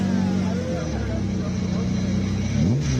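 A BMW E46 M3 accelerates up a Cape Town hill climb course, its engine note rising in pitch through the gears, loud and close, with a shift-like dip near the end and a commentator talking over it.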